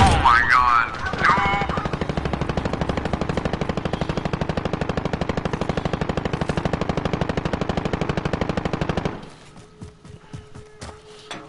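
Rapid automatic gunfire in the game Modern Warfare rattles on continuously for several seconds, loud and rhythmic, then cuts off, leaving quieter scattered effects.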